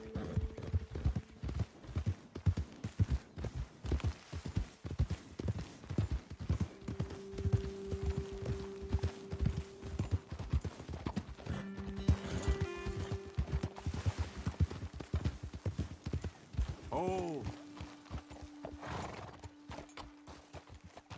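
Horses trotting on a path in Red Dead Redemption 2, steady close clip-clop hoofbeats throughout with a loud whinny near the end, and brief voices from riders.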